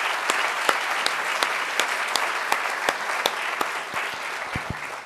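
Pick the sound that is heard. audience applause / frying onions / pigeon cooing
audience applause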